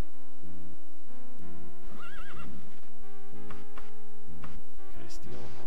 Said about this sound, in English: I'm gonna steal a horse.